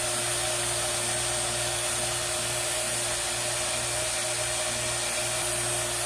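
A vacuum pump evacuates a car's AC lines ahead of an R-134A charge, giving off a constant, even mechanical hum and whine with no change across the clip.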